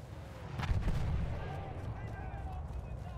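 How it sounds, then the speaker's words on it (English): Mortar artillery fire rumbles in Battlefield 1 as a deep, heavy boom that swells and then lingers as a low roll over steady battle ambience, with no talk. "There's a mortar!"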